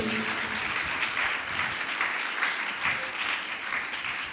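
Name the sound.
congregation applauding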